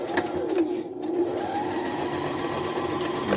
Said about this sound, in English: I'm still gonna go ahead and just do a back stitch.